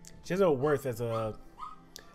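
A dog close by yips and whimpers in a short run of whiny, pitch-bending cries, loud and alone with no talk over it.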